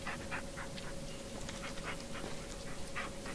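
Dog panting in the horror game Blair Witch, a steady run of rhythmic breathy puffs, close and fairly loud, alone over a constant low background hum.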